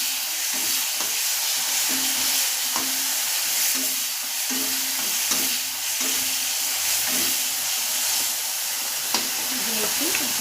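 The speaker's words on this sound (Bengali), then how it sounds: "একটু নেড়ে নেবো, লাল লাল করে একটু ভেজে নেবো" Chili and onion paste frying in hot oil and being stirred, giving a steady broadband sizzle with occasional scraping taps, close and continuous throughout.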